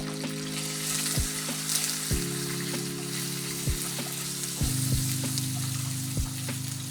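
Coconut pieces dry-roasting in a pan for a Konkani chane upkari, giving a steady soft sizzle with a low hum underneath and occasional light knocks, as if stirred.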